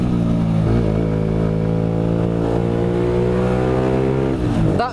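A Honda CBR 125R motorcycle engine drones steadily at high revs while riding, a close, buzzing tone that holds nearly constant, then dips briefly as the revs shift near the end.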